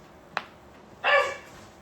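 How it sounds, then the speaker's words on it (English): A dog gives a single short, sharp bark close by after a faint click, then things go quiet. "We got dogs."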